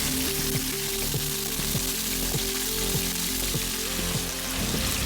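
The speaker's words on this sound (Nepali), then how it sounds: "अब यसलाई चाहिँ म मज्जाले फ्राई गर्छु।" Chicken pieces frying in a pan with lightly fried whole spices for a homemade chicken curry, giving a steady close sizzle throughout with a faint tonal background underneath and no talking.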